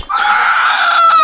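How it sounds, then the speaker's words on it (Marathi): One of four roosters lets out a loud, close crow, a single sustained strained call that breaks off at the end, with no talking. "चार कोंबडे आहेत"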